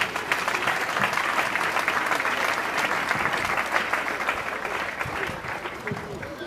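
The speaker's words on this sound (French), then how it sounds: "Et j'aimerais qu'on applaudisse pour ma maman." An audience at a memorial gathering at a mausoleum applauds for the speaker's mother, a dense, sustained round of clapping that stays loud and even throughout, with faint crowd murmur beneath.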